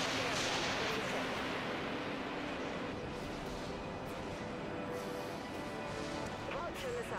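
Warship primary weapons firing in the space combat game Dreadnought, a loud, dense wash of heavy blasts and booming impacts running continuously, with a voice talking over the barrage.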